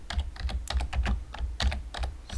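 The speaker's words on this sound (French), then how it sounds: "là, je peux taper Microsoft Store." Typing on a computer keyboard to search for Microsoft Store, with close, loud, quick bursts of key clicks in an irregular rhythm and no talk.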